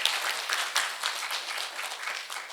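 Audience at a Korean intergenerational policy debate forum applauds a debater's introduction, a steady wash of clapping at moderate level with no voices over it.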